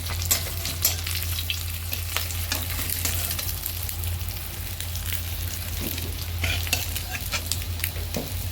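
Fenugreek seeds tempering in hot oil produce a loud, close, continuous sizzle with crackling pops and bursts throughout, over a low steady hum.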